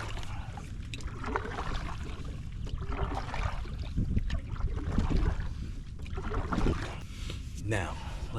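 Rhythmic paddle strokes from a solo paddler in a thirty-year-old fibreglass canoe splash and swirl through water, with gurgles after each pull, steady and close against outdoor wind noise.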